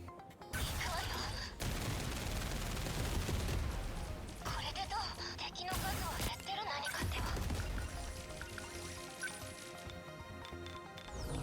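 Missiles fire in the video game 13 Sentinels: Aegis Rim amid dense, continuous gunfire and crashing blasts. The volley is loud and busy and runs for the whole stretch, with a voice speaking underneath.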